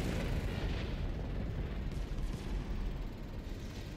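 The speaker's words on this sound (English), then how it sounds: "Oh no, right when I'm going to get orbital strike." Orbital strike explosions in the naval battle game World of Warships: Legends roll out as a continuous, heavy, rumbling barrage of booms that fills the whole stretch without letting up.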